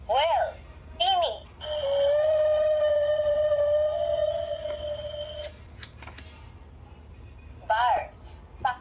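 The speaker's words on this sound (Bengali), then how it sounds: "whale তিমি" Whale call sound effect from a children's sound book: a long, steady tonal moan with rich harmonics lasting about four seconds, framed by short bursts of speech before and after.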